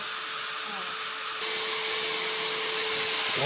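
A household vacuum cleaner draws air out of a clothing compression bag, a steady loud whooshing roar that jumps in intensity partway through and holds with a faint whine, close to the microphone.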